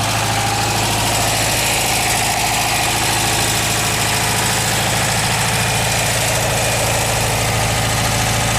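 A 1974 Volkswagen Westfalia camper van engine idles steadily up close, a constant loud mechanical hum and rattle with no break throughout.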